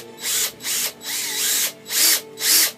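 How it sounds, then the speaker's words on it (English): A power drill bores a hole through the hand of a 1/6-scale Hot Toys figure, whining in about six short, loud bursts with brief pauses between them as the bit eats into the plastic. "And then I maneuver my drill as I'm going through there."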